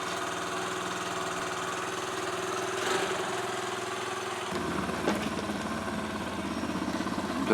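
Yamaha YBR 125 motorcycle fitted with a 150 kit and an add-on box modifying its fuel injection map, idling steadily when cold with a low, even rumble that shifts in tone midway, close and continuous.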